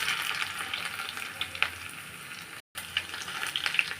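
Onions frying in hot oil with mustard seeds for a curry leaf chutney tempering, a steady close sizzle with small crackles and pops running throughout, no voices.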